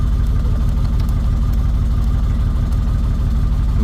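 The engine of an 1984 Buick Grand National idles close and loud with a steady, throbbing low pulse after the RPMs drop, running unchanged without any talk.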